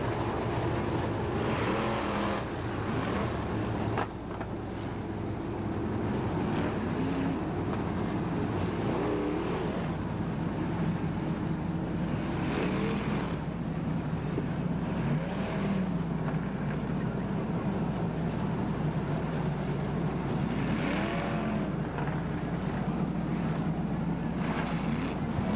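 Modified race cars roar continuously around the track at Quincy Raceway during a 25-lap feature with 18 cars, engines droning and surging loudly throughout with no talk over them.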